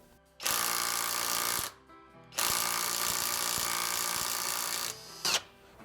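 A Kobalt 24-volt cordless right angle impact wrench rattles loudly up close in two long bursts, with a brief third burst at the end and short pauses between.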